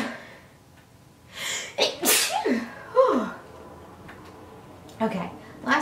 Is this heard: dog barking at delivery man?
no